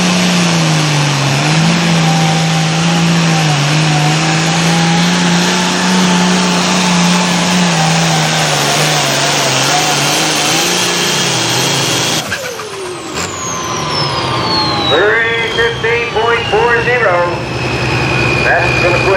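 A Super Pro class farm tractor with a 540 cubic inch single-turbo engine roars loud and steady during a pull, its pitch shifting as the run ends, with an announcer talking over the din.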